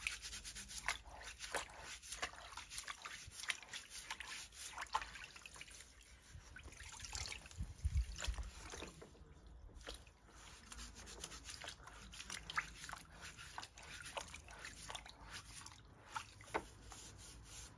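A panel air filter being dipped and massaged in water, giving soft, steady sloshing, rubbing and dripping up close with no voices over it.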